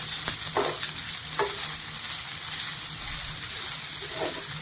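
Half a grated coconut roasting in a pan for mushroom xacuti, with a continuous dry sizzle and a few sharp stirring scrapes close by.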